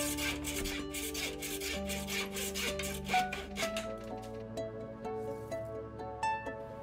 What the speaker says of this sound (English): we'll eyeball the best place to cut this in half.